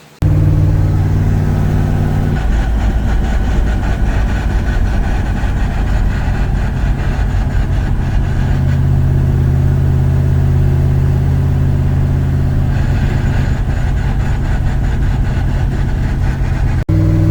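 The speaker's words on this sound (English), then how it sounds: "I'm gonna hop in the truck and put it in gear and see how the dry shaft sounds" A truck with a newly installed driveshaft and a ZF5 transmission runs steadily in gear, its engine a loud continuous low drone that shifts in pitch as it pulls, with no talking throughout.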